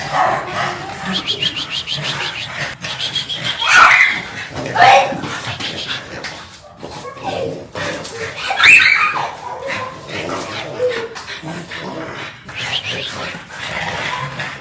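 Pet dogs at home yip, whimper and give short excited barks at playtime, fairly close, mixed with household noise and people chatting.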